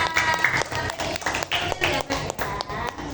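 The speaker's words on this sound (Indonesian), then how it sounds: "Beri tepuk tangan untuk kelompok 4." A classroom group claps for presenting students, a fast irregular patter of hand claps filling the room.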